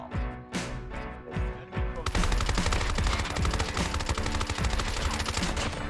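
Rapid bursts of PDW-57 submachine gun fire in Call of Duty Mobile, sporadic shots at first, then a dense, loud sustained stream of automatic fire with overlapping reports.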